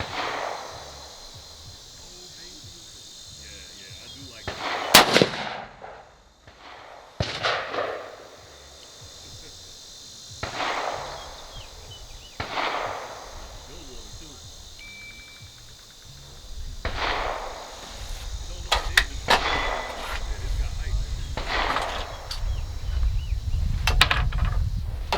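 A PWS UXR rifle fires 55 grain rounds at a range, several sharp reports spaced several seconds apart with steady outdoor background noise between them and wind-like rumble building toward the end.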